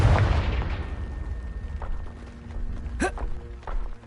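A Confringo fire spell blast in the Hogwarts Legacy video game opens with a loud, deep boom that decays into a long rumbling tail, followed by faint thuds and a brief sharp whoosh about three seconds in.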